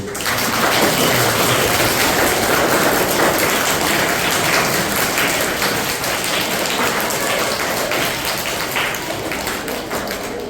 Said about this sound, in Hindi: फिर तालियां बजनी शुरू हो गई है